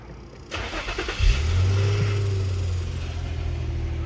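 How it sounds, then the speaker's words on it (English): A 2006-2010 Infiniti M35 cranks briefly and catches, then settles into a steady, close low idle rumble after a few clicks and a short whirring start, with no voices. "Then we will start the car."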